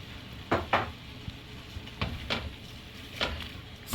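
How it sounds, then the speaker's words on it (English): A spoon stirs rice and other ingredients into a pot of mulligatawny soup, a few distinct clacks and scrapes against the pot in an irregular rhythm over a low simmering background. "Stir that in."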